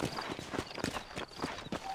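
Rhythmic clopping of horse hooves at a walking pace in Red Dead Redemption, close and clear over a busy background of game noise.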